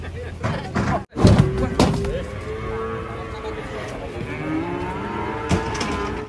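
A cow at a livestock weighing spot lets out a long, low moo over steady background noise, with a sharp thump just before it and people talking nearby throughout.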